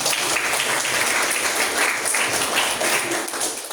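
Classroom applause from students, a steady, dense wash of many hands clapping throughout, fairly loud and continuous with no talking.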